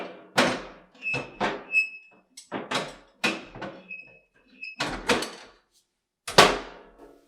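Metal bottom door of a Stuv 30 Compact wood stove is lifted off its hinge pins and set back, producing a series of sharp metallic clanks and scrapes close by, with brief pauses between them.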